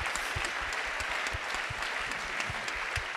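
A crowd applauds the CFO at an awards night, with sustained, even clapping from many hands at full level throughout and no talking.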